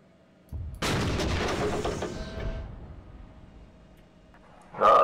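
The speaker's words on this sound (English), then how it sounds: "Something shot at us?" Gunfire bursts out in a video game, a loud, dense crackle of shots starting about half a second in and tailing off over two seconds, with another sharp burst near the end.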